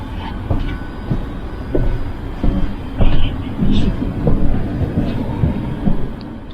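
A passenger train bound for Vienna Franz-Josefs-Bahnhof rolls along the rails, heard from on board as a loud continuous rumble with irregular clacks and rattles, and murmured voices mixed in.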